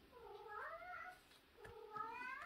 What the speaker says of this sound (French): Vous entendez mes chats qui sont en train de jouer, de se courir après.